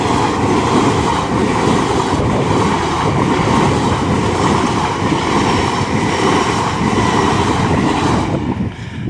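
A train rumbles steadily past a level crossing at Holme, close and loud, with continuous wheel and rail clatter sustained throughout before the noise begins to fade at the very end.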